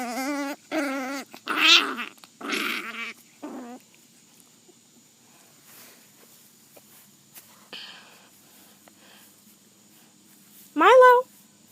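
Foster puppies whimper and yelp in short high-pitched bursts, several in quick succession at first, then a quiet stretch with faint scuffling before one more loud whine near the end; no talking.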